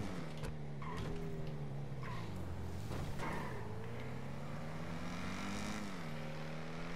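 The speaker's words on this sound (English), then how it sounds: "Jesus, dude, this car sounds so nasty." A car engine in Grand Theft Auto V revs and drones with shifting pitch, rising and falling through gear changes, with brief tire squeals, loud and continuous.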